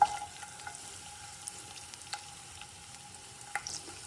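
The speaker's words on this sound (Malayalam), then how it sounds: "പിന്നെ പച്ചമുളക് ആദ്യം ഒന്ന് വഴറ്റിയെടുക്കാം." Shallots, garlic, ginger and green chili sauté in hot oil in a pan, giving a soft, steady sizzle with faint stirring clicks, quiet and close throughout.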